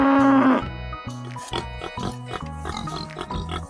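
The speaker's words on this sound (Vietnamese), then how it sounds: "Con lợn rừng." A wild boar lets out a short harsh squealing grunt, followed by softer snorts against a rhythmic music bed.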